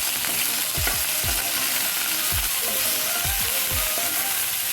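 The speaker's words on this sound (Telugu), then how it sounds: "పచ్చిమిరపకాయలు వేయించుకుంటే అండి మంచి వాసన వస్తుంది" Green chillies fry in a pan for mirchi fry, giving a steady, dense sizzle with repeated scraping stir strokes at a regular rhythm, close and continuous with no talking.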